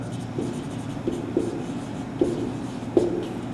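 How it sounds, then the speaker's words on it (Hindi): Chalk or marker taps and scratches on a board during a maths lecture, a handful of short, separate strokes over a quiet room hum. "यही लिख देता हूं"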